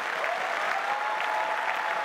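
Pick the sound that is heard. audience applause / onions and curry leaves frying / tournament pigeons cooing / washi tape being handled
audience applause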